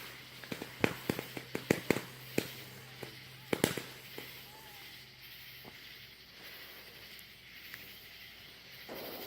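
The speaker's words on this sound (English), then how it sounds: "That's kind of a weird little firework." Small backyard fireworks for the Fourth of July go off in a quick series of sharp cracks and pops over the first four seconds, followed by fainter fizzing and hiss, with low voices in the background.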